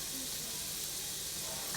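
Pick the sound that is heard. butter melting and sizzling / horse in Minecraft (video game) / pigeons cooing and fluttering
butter melting and sizzling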